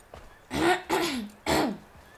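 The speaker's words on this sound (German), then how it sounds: "da musste ich mich mal kurz räuspern" A man clears his throat while playing Assassin's Creed 3, three rough, gravelly bursts in quick succession, close to the microphone with quiet game sound between them.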